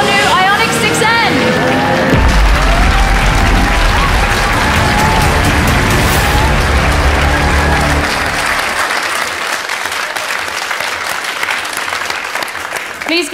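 Loud, sustained applause from a large audience at the Hyundai Ioniq 6N premiere, mixed with crowd noise and a revving engine early on, tapering toward the end.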